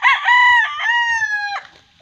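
A wild junglefowl (labuyo) rooster crows loudly and close by, one long drawn-out call with a harsh start, then trailing off into quiet.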